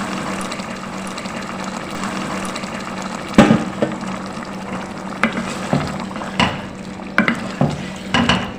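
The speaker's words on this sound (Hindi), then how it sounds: "अब हम इसमें डाल देते हैं पानी।" Water hitting a hot frying pan of browned chicken and chickpeas with a sizzling, bubbling hiss, joined by intermittent clinks of stirring.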